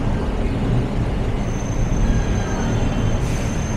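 Light rail (LRT) train running on the elevated line near Vito Cruz Station on Taft Avenue, Manila, a steady loud rumble blended with street traffic throughout, with a faint high whine toward the end.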